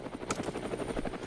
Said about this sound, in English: You just threw it out of the helicopter.